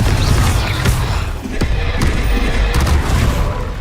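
Confringo spell explosions in Hogwarts Legacy, loud booming blasts and crashing impacts layered over dense rumbling combat noise.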